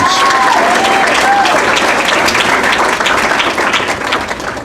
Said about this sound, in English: Let's have a round of applause for our second team selections.